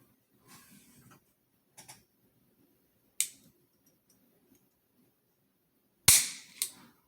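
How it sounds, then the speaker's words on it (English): A Walther P22 pistol's trigger is dry-fired, giving sharp isolated mechanical clicks and snaps, one crisp click near the middle and a louder double snap later, with soft handling rustles between in a quiet room. "let's check the trigger"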